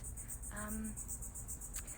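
Crickets chirping in the background outdoors, a steady rapid high pulsing trill running through the whole stretch, faint and continuous, with a brief voice sound in the middle.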